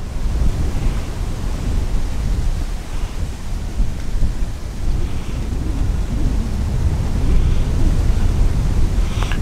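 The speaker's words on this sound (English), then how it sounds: "let's get out of this wind" Strong, steady wind roars and buffets across open ground by a dam on a Texas lake during a cold front, a continuous broadband rush with gusty swells and no talk.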